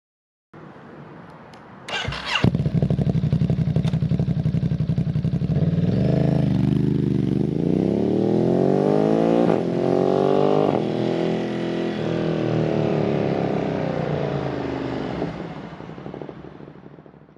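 A Ducati Monster's 90-degree V-twin engine clatters to life, then revs up and down in long, rising and falling sweeps toward its 10,000 RPM redline, loud and close by.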